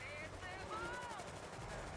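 Gunfire in the video game World War Z crackles in quick bursts under agitated voices, fairly faint and mixed with game ambience.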